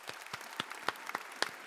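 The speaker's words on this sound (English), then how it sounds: "Why don't we clap it out?" A few scattered hand claps, about six sharp isolated claps spaced irregularly over a couple of seconds, fairly close and quiet.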